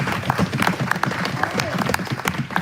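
Audience at a youth justice fundraiser claps and stomps their feet stadium-style, a dense, steady patter of hands with low thumps underneath, sustained and fairly loud with voices mixed in.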